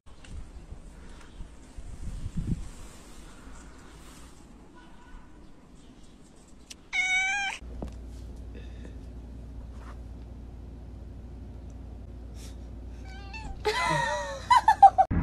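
A cat meows twice, a short drawn-out call about midway and a louder, wavering meow at the end, with quiet household background in between.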